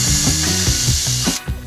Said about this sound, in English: we just want to make a small hole in the top of this so that the screw that we drive into here goes into here easier